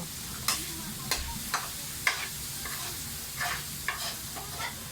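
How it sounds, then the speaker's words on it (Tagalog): A spoon stirs sautéed chayote seasoned with pepper and salt in a frying pan, a soft sizzle broken by repeated scraping strokes and clinks against the pan, close and fairly quiet. "Halo mo lang ng halo para mag-mix yung pepper at salt."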